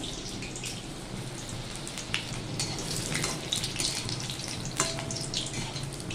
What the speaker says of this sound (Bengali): আমি তাহলে চারটে ছেড়েছি চারটে ভেজে দেখাচ্ছি এইভাবে সবকটা ভেজে নেবো আমি